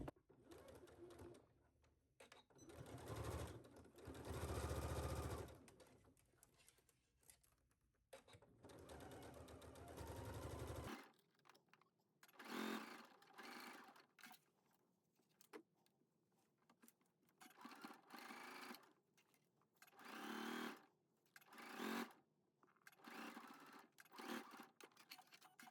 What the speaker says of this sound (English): I'm going to put my presser foot down and start to sew.